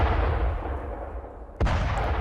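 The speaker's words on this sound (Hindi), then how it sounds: "एक के बाद एक धमाके इन तस्वीरों में देखे जा सकते हैं।" Bombing explosions in war footage from the US-Israel-Iran conflict, heard as a continuous low rumble with a single sharp blast near the end, loud and without talk.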